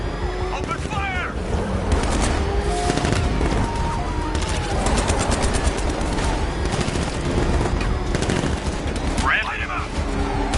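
Heavy automatic gunfire from Batman: Arkham Knight rattles continuously under shouted voices, with machine-gun bursts, booms and whooshing effects layered densely throughout.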